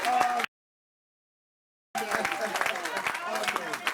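Loud applause from a church congregation, broken by a sudden gap of silence before the clapping resumes, dense and sustained.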